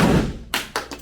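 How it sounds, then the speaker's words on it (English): A homemade tool swung hard onto the corner of a bathtub refinished with an Ekopel 2K kit, landing as a few sharp, close thuds and taps in quick succession after a brief rustle. "I'm just going to swing it down nice and hard"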